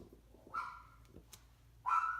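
Two short, high-pitched yelps from a dog a little way off, separated by a pause, over faint background noise.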